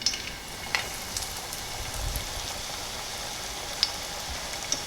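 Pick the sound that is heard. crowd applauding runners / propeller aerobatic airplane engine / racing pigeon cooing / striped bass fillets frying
striped bass fillets frying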